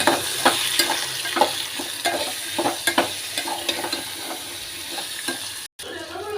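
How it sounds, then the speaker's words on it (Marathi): Coriander is stirred into a dish frying in a pan, giving steady sizzling under repeated scraping and clinking spoon strokes at close range, with a brief dropout near the end. "आता आपण टाकू थोडीशी कोथिंबीर आणि मिक्स करून घेऊ"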